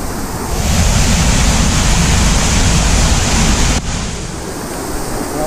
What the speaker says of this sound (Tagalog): Sobrang ganda ng Balagbag Falls dito,